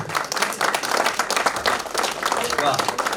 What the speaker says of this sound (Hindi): एक बार अपने लिए तालियां